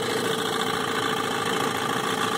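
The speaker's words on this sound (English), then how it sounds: "We're in gear now, just sort of putting along." A 1965 Mercury Merc 110 9.8 HP outboard motor runs in gear at slow trolling speed, giving a steady, continuous low putter with a constant mechanical drone throughout and no voices.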